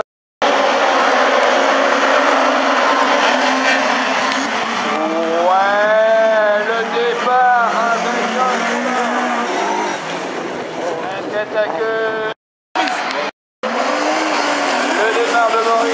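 Rallycross cars racing at the Essay event in 2015, engines roaring loud and continuous with revving and tire noise, a commentator talking excitedly over them, briefly cut out near the end.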